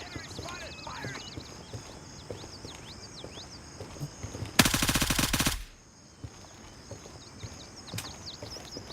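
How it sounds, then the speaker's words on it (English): A rapid burst of automatic gunfire from the shooter game Gray Zone Warfare rattles out for about a second, loud and close, fired at an enemy, amid quieter background game sounds and bird-like chirps. "Enemy spotted! Firing!"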